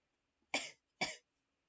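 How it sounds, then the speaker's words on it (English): Two quick dry coughs, close and fairly quiet, about half a second apart against near silence. "That was a cough."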